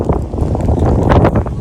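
Wind gusts across an open field ahead of rain, buffeting the microphone with a steady, rough, low roar that swells slightly midway and carries on without a break.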